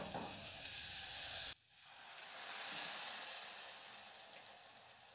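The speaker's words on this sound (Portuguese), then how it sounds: "Aqui eu tô fritando o alho pro feijão, tô fritando na banha." Loud sizzling of crushed, salted garlic frying in hot lard, cutting sharply to a quieter, gentler crackle of rice being sautéed that swells and fades.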